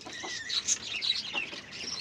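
Several small chicks peep in high, thin chirps, overlapping in a busy, close-up chorus with no pauses.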